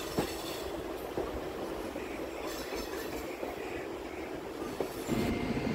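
Howrah-Haldia local train pulling into Haldia station, a steady rumble of wheels and carriages with occasional squeals and clicks, moderately near and continuous for several seconds.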